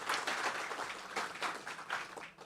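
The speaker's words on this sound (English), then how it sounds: "please, a round of applause for all of our social media contestants that were playing along" Applause for social media contestants at a live event, a faint crowd clapping in a steady wash of hand claps, fading out at the end.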